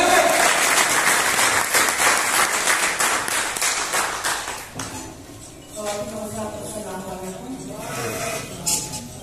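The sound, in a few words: audience applause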